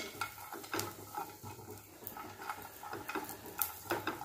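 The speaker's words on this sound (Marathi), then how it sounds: "जे आपण 4-5 खारीक घेतले ना, त्याच्या बिया काढलेले मी आणि छान तुकडे करून घेतलेले आहेत, हे पण भाजून घ्यायचं।" Chopped, seeded dry dates roast in a pan for Govind laddu, with a soft continuous sizzle under frequent stirring scrapes and light clinks of a spoon against the metal.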